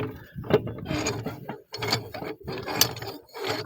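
A repaired mulcher mechanism with new sealed bearings turns over, giving a close, irregular series of mechanical clicks, ratcheting knocks and rubbing grinds, with brief pauses between bursts.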